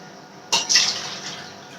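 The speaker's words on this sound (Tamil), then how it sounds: "இப்போ வந்து 4 கப்பு நம்ம தண்ணி ஊற்றியாச்சு" A short splash of water pouring into a cooking pot for coconut milk rice, a brief gush that tapers into a softer trickle, close by with no talking.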